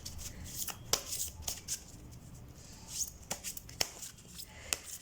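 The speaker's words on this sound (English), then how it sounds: "I'll shuffle them for you." A deck of Sacred Indian Tarot cards is shuffled by hand, giving quiet riffling bursts and soft sharp snaps at irregular intervals, close and faint with no talking.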